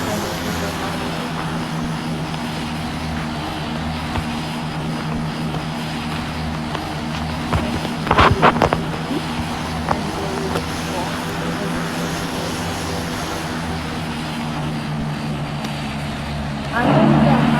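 Airplane landing at Lukla airport in the Roblox game PTFS, a steady droning engine hum throughout with a brief louder burst midway and a voice talking over it.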